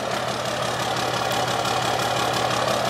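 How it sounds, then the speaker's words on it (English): Steady rumbling diesel exhaust from a 6.7 Cummins truck fitted with a 64mm VGT turbo, a constant loud drone with a slight knocking texture and no speech. "You guys hear the exhaust"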